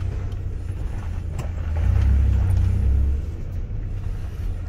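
Steady low rumble of a car driving, heard from inside the cabin, the road noise swelling louder for about a second mid-clip before settling back, no voices.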